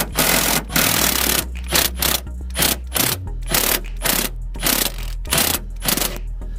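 Milwaukee 1/2-inch brushless cordless impact wrench removing a bolt during a 2015 Ford F-250 side step replacement: loud, repeated short hammering bursts roughly every half second over a low motor drone, close up.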